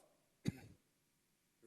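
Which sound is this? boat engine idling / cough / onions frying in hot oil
cough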